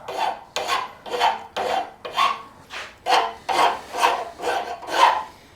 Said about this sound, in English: I always just clean it up with the file, get that burr off the bottom edge